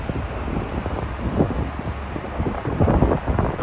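Wind blowing outdoors at Rockefeller Center in New York on a cold day, a loud steady rush with gusty buffeting against the microphone.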